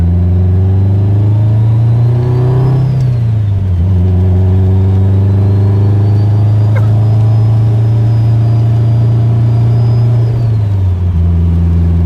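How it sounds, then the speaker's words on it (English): Subaru Forester engine pulling under gentle, low throttle with no boost, a steady mid-pitched drone that rises, drops with shifts near three and eleven seconds, and holds loud and close throughout. "I'm accelerating as quickly as I can without making any PSI"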